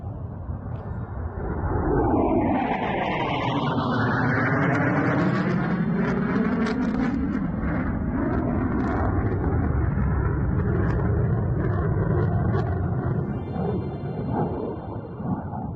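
An F-18 jet roars past at an airshow, a loud sweeping engine rumble whose pitch swoops as it passes and then holds as a sustained, dense roar.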